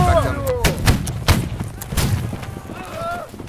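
A cannon shot in the Napoleonic-era line battle game Holdfast: Nations At War, a few booming blasts among scattered musket-like cracks, with players talking and shouting over the noisy battlefield.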